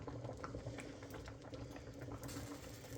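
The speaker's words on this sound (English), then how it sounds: "it's just taking a little bit longer to boil down is because of that coconut cream in there" Corned beef with coconut cream simmering down in a pot, a steady close bubbling boil with a continuous low rumble, fairly quiet and unbroken, no voices.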